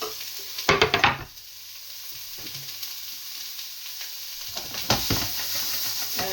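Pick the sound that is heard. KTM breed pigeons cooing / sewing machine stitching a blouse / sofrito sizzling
sofrito sizzling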